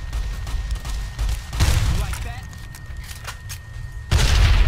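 Gunfire in the Fallout: New Vegas video game, with several bursts of shots and booms, loud and close, separated by quieter stretches, while someone talks in between.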